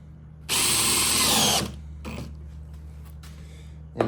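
A power drill drives a screw into a wooden cornhole board, a loud close whir of about a second that winds down, followed by a shorter burst and a few faint clicks.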